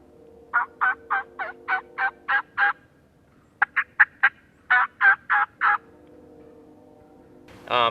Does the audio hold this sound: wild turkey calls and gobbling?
yes